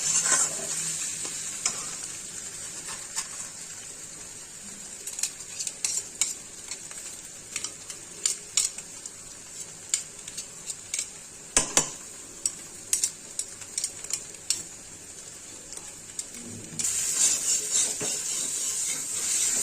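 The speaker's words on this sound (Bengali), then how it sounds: "এখন মশলাটা কষানো হচ্ছে" Spice masala sautéing in a pan for a potato curry with egg and garlic greens, a continuous soft sizzle broken by frequent sharp scraping clicks of the stirring spoon, rising into louder frying near the end.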